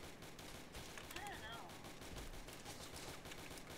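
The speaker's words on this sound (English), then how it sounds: "We need cover from that machine gun." Rapid gunfire bursts from a machine gun in a Roblox game, fairly dense and continuous under a steady noisy backdrop, with voices talking over it.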